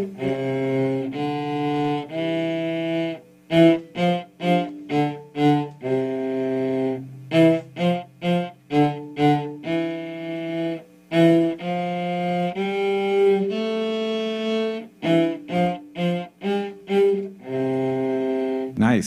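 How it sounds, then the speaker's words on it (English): Cello played solo in a low register, a sequence of sustained bowed notes and shorter detached phrases with rich harmonics, clear and close throughout. "The cello is even bigger."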